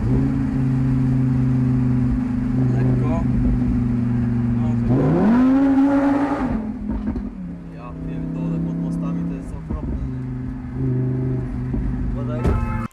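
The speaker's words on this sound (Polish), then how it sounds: "Znany youtuber Bandura wypożyczył Lamborghini, którym rozbił się na live." Rented Lamborghini driving with a loud, steady engine hum that swells in a sharp rev midway, then settles back to a lower cruising drone.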